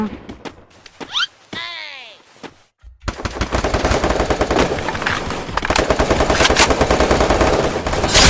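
Rapid automatic gunfire from the battle royale video game Free Fire rattles in loud, dense bursts almost without pause. It follows a short, quieter stretch of voices and sound effects, and a player talks over the shooting.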